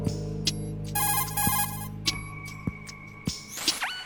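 A phone ringtone sounds during play of the Metal Gear Solid 2 video game, a melodic electronic ring with repeated tonal bursts and sharp clicks over a steady low game hum, fairly close and clear.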